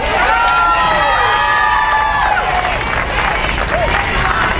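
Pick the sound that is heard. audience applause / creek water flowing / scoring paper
audience applause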